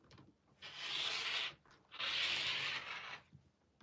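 Scissors trim the edge of a fabric sample in two long, steady hissing rasps, each about a second long, with a brief pause between them. The cutting is close and quiet, and nobody speaks.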